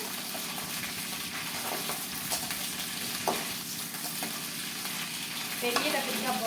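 Small brinjals fry in hot oil with a steady, dense sizzle, while a spoon stirs through them now and then with soft scraping clicks, close and continuous with no talk.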